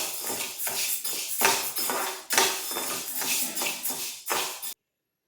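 Urad dal and chana dal dry roasting in a pan over medium flame for idli podi, with repeated scraping and rattling strokes of a spoon against the metal, close and fairly loud, ending abruptly in silence.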